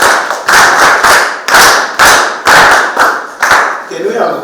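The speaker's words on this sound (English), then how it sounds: "can we clap hands for her?" Students in a grade 11 biology class clap in unison, about eight loud, close, rhythmic bursts of hand claps, each roughly half a second apart, with a faint voice at the end.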